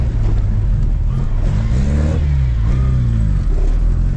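A Chevrolet Chevette being driven hard, its engine loud and close as it revs up through rising and falling pitch, with no talk over it.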